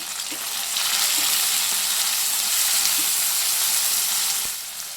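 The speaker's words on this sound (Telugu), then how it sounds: "ఈ ముక్కలు కూడా వేసేసుకొని ఫ్రై చేసుకోవాలి" Tomato pieces frying with onions in a hot pan, a loud, steady hissing sizzle that swells in and holds, with a few faint taps of a spoon, no talking.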